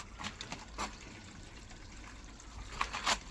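Water runs through a newly connected gutter during a leak test, heard as faint trickling and splashing with a few louder bursts of dribble near the end, no talking.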